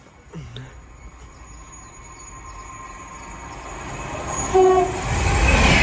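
A nine-coach Class 390 passenger train, 390 002 running from London Euston to Glasgow Central, approaches through Tamworth with a rising rumble and a brief horn, growing louder as it nears and passes.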